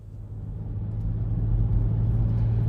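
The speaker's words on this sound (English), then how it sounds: "let's go ahead and take this Rogue SV out on the road for a quick test drive" A 2023 Nissan Rogue SV drives on the road, a low steady engine and road rumble heard from inside the cabin, gradually swelling in loudness.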